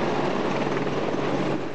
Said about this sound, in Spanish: Nuevos modelos de helicópteros de última generación